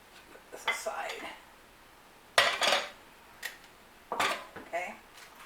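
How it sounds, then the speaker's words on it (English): Slotted spoon scraping and scooping ground beef taco meat in a pan, a few distinct clinks and scrapes of metal on cookware separated by brief pauses, close and fairly loud. "I have a slotted spoon I'm going to use"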